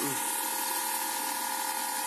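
A Greenworks Pro 2700 PSI brushless pressure washer runs loudly and continuously on concrete, a steady high-pitched motor whine with hissing spray and no pauses.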